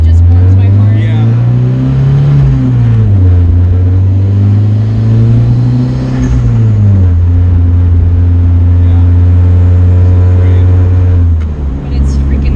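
Turbocharged Mazda Miata with an SR20 engine swap accelerating, a loud steady engine drone rising and falling in pitch through the gears, with voices talking over it.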